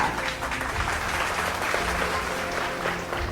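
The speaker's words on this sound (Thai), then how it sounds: "ขอเสียงปรบมือต้อนรับ" A crowd at a Chinese-style engagement tea ceremony claps steadily and warmly for a few seconds, a dense, even patter of many hands.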